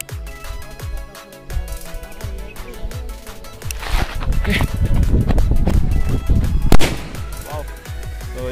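Auto Bom firecrackers packed with colour powder burst outdoors in a rapid crackling series of sharp pops, building to a louder blast near the end, with voices talking throughout.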